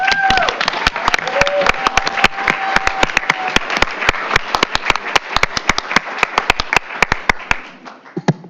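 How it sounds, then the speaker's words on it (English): A school board meeting audience applauds retirees: sharp, close claps ring out in an uneven, fairly loud rhythm over a thinner crowd patter, with a few voices at the start before the clapping tapers off. "Let's give one more round of applause to"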